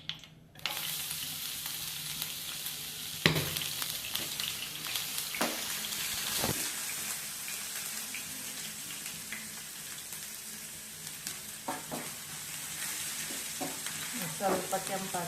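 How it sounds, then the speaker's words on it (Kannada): Ginger and garlic frying in hot oil, a steady close sizzle lasting throughout, with a few utensil knocks and scrapes now and then and no talk. "ಎಣ್ಣೆ ಕಾಯ್ತಿಗೆ ಇದಕ್ಕೆ ಫಸ್ಟ್ ಶುಂಠಿ ಬೆಳ್ಳುಳ್ಳಿನ ಹಾಕ್ತೀನಿ."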